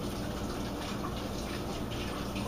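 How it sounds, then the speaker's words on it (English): A kitchen tap runs steadily while hands are rinsed under it, a continuous close hiss and splash with no pauses and no voices. "Quickly rinse my hands."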